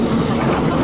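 A metro train's steady rumbling roar with faint clattering as it brakes and accelerates on the Kirovsko-Vyborgskaya line near Avtovo, loud and close, as if riding inside a carriage under way.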